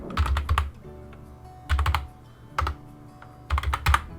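Typing on a computer keyboard, in quick bursts of close, crisp key clicks separated by short pauses, four clusters in all with no voices.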